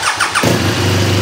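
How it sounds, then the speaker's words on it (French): A modern motorcycle starts up: a brief electric starter whir, then the engine catches and settles into a steady, loud low rumble close by. "Sur une moto moderne, si je démarre, je mets le contact."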